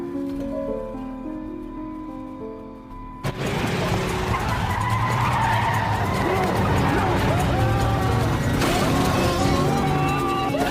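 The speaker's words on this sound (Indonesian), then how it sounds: "Mallory secara tiba-tiba membelokkan mobilnya dengan kecepatan yang tinggi, hingga mobil itu jatuh ke lereng dengan posisi terbalik." A car swerves at high speed and goes over a slope in a film, a sudden burst of skidding tyres and roaring engine noise that stays loud and dense for several seconds, with faint talk beneath.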